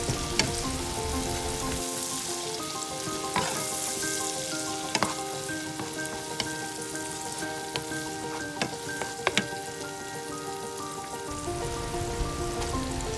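Chopped onions cooking in tomato pasta sauce over medium-high heat, giving a steady dense sizzle with scattered pops and bubbling throughout.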